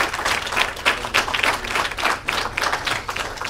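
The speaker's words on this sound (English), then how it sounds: "So please give him a round of applause" A small audience applauds a translator at a talk on object-oriented design, with close, uneven clapping in loose bursts throughout.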